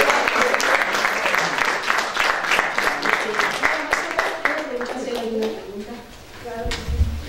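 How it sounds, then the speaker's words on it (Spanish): Applause from an audience at an academic talk on designing learning paths, a dense patter of many hands that stays steady and fairly loud, then thins toward the end with a voice beginning to speak. "gracias por el aplauso"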